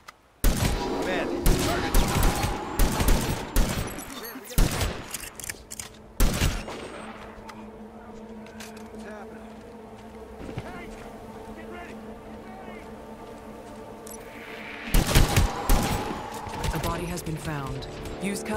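Enemy gunfire in the Hitman Absolution HD Remastered prologue: bursts of rapid shots early on, a lull with a steady engine-like drone, then another volley near the end, with speech-like sounds mixed in.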